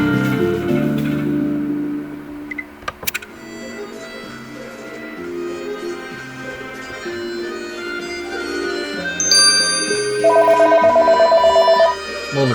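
A phone rings with a steady electronic tone over background game music and effects, the ringing pulsing clearly near the end.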